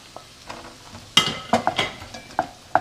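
Shrimp tossed back into a creamy, reduced wine sauce and stirred in a pan, giving a low sizzle broken by several sharp scrapes and clinks of a utensil against the pan.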